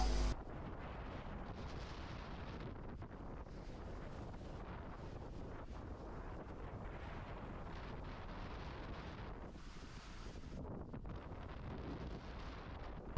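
Wind buffets the microphone nonstop while skiing down a slope at Thredbo, a loud rumbling roar that barely eases for the whole stretch.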